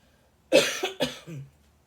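A person coughs three times in quick succession, close up, with the last cough trailing into a throaty rasp.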